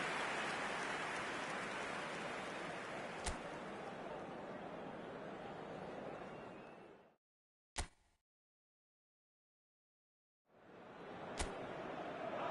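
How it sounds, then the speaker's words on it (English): Heavy rain in the eFootball video game on PS5, a loud, steady hiss of downpour that cuts out to near silence for a few seconds before returning, with a couple of sharp clicks. "Well, the weather here today is not playing ball. We have heavy rain."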